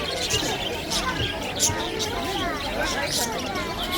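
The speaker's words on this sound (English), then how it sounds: "Noise of birds everywhere." Many birds chirp and call at once inside a bird market at Souk Waqif in Doha, Qatar, a dense, continuous chatter of overlapping tweets filling the space alongside a busy crowd babble.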